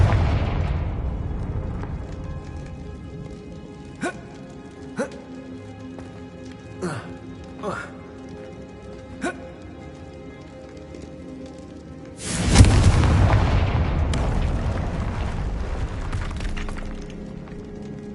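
Confringo fire-blast spell in the video game Hogwarts Legacy: several sharp crackling impacts spaced a second or two apart, then a loud roaring explosion that decays slowly over a rumbling ambient bed.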